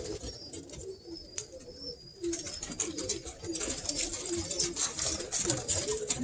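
Pet pigeons coo in soft, low murmurs close by, with a few chirps and a brief flutter of wings in the background.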